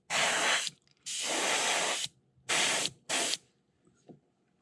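Airbrush laying paint coats onto a crankbait, four close bursts of steady hissing spray, two longer and two shorter, split by short silences, with a faint tap near the end.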